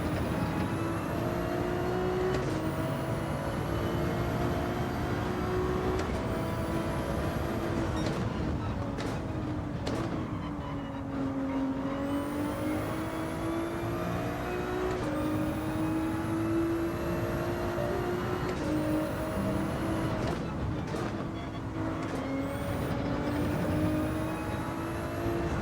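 Race car engines in Gran Turismo 7 during a GT3 race, including a Ferrari 296 GT3, with a steady high engine whine that rises and falls through repeated gear shifts, loud and continuous.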